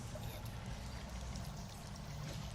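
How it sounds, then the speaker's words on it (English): Whiskey is poured into a glass as a sound effect, giving a steady liquid trickle and splash over a continuous, fairly loud background hiss. "drip of whiskey into a glass"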